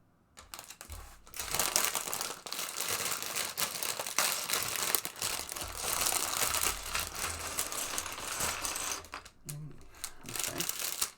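Plastic bags of LEGO Star Wars set parts crinkling and rustling close up for several seconds, with busy crackling bursts and rattling pieces, a few short pauses, and no speech.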